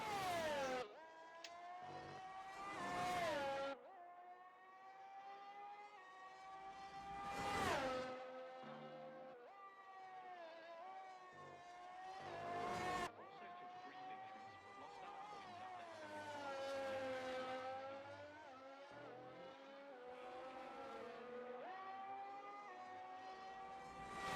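A Mercedes race car in a racing video game screams through a lap at Imola, its engine pitch climbing and dropping sharply through repeated gear shifts, fairly faint and unaccompanied.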